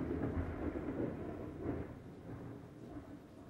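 A low, continuous rumble rolls on throughout, swelling slightly in places, like distant thunder muffled indoors.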